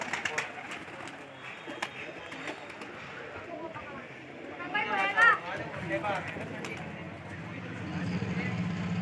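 Pigeons coo in soft, throaty bursts nearby, with wing flutters and scuffling, while someone talks over the birds.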